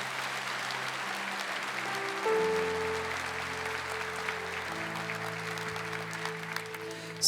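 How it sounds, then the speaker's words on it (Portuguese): A church congregation applauding during a Catholic service led by a friar, steady moderate clapping from many people over sustained organ or keyboard chords, sounding somewhat distant in the hall. "Aplauda Jesus Cristo."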